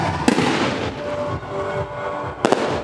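Festival fireworks burst overhead in a dense, continuous crackling roar, with two sharp louder bangs standing out near the start and end.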